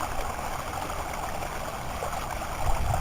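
Continuous rushing, splashing water from a small garden pond waterfall, steady and close, with no voices.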